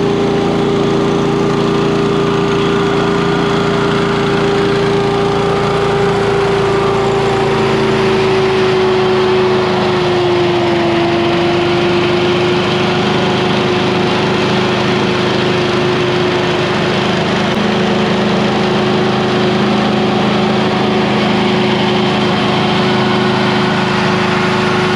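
A Little Wonder walk-behind leaf blower in worn, neglected condition runs on a driveway, a loud, steady small-engine drone with a slight dip in pitch partway through and no voices.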